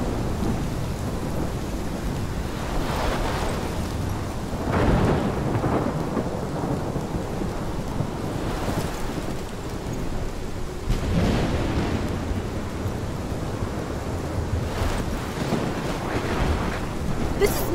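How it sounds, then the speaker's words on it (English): A heavy thunderstorm in the Life Is Strange video game, with steady pounding rain and repeated deep rolling thunder surging across the whole stretch, loud and continuous with no voices. "This is my storm."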